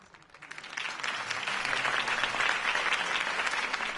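A crowd's applause following a campaign speech rises from quiet over the first second into a full, continuous wash of clapping that stays strong to the end.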